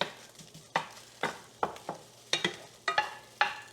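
Eggs frying in a pan are pushed around with a utensil, giving sharp, regular scraping taps about every half second over a soft, steady sizzle, close up with no talking.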